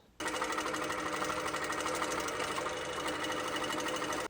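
A malfunctioning sewing machine runs at a steady fast rhythmic clatter for about four seconds, close and loud, starting and stopping abruptly with no voices.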